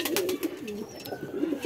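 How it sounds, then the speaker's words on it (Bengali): A Giribaz pigeon, a Bengali flying breed held in the hand at a rooftop loft, gives a close, clear series of throaty coos, rising and falling in short rolling phrases. "এটা হলো গলা কবুতর, গিরিবাজ।"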